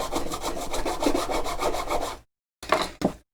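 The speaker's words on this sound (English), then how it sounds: "Now we just have to file this out." Hand filing of a cut-out rectangular hole in a saxophone part, a steady rasping back-and-forth scrape for about two seconds, then a pause and two short final strokes, close and alone.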